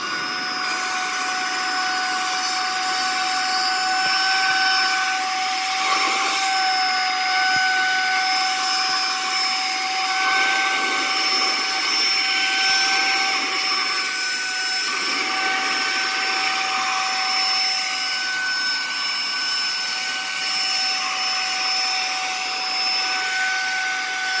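A Saker 3-in-1 vacuum cleaner fitted with a long flat suction nozzle runs continuously, giving a loud, steady motor whine with a high tonal hum that holds even throughout.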